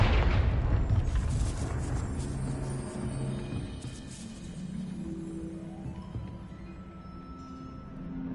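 A Confringo spell blast in Hogwarts Legacy, a heavy explosive boom at the start that rolls off into a long rumbling decay with scattered debris and a lingering low hum.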